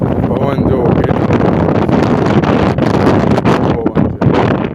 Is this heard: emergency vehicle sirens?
no